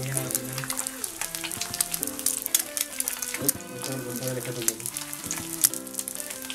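An egg frying in a generous amount of oil in a pan gives off a steady crackling sizzle with soft spatters, heard close up under background music, with no one speaking.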